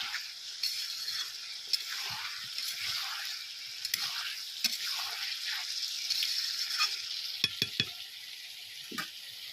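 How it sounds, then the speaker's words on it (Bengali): Food sizzles and frys in a pan over a wood-fired stove, a steady hiss with scattered scraping and stirring clicks, fairly close and moderately quiet, with no talking. "আর এই যে কাঠের উনুনে রান্না করছি আমি"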